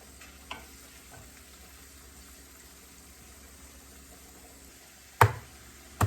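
Vegetables fry and get stirred in a small new frying pan, with a steady low sizzle running throughout, a couple of sharp utensil knocks near the end, no voices.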